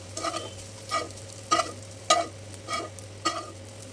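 Soya chunks fry in oil with a steady low sizzle, while about seven evenly spaced stirring scrapes of a spatula against the pan come through close and clear, with no one talking.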